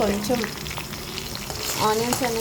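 Sliced onions fry in a pan for a vegetarian Hyderabadi dalcha, with a steady close sizzle and a few brief scraping stirs and clatters, no talking.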